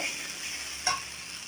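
Food sizzles steadily in a pan as it is sautéed with ginger powder and cumin powder. One brief sharper clink of a utensil stands out midway, and no one speaks.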